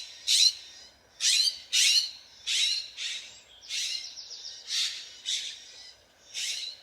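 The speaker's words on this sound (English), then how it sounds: "there is a bird battle going on" Birds chirp and squawk in a noisy squabble, a burst of harsh, shrill calls coming in irregular clusters, loud and close against an otherwise quiet background.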